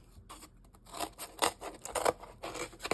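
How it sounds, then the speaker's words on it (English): Scissors cut corrugated cardboard in close, quiet, irregular snips and crunching slices that come in short bursts, with no one talking. "then you take your scissors"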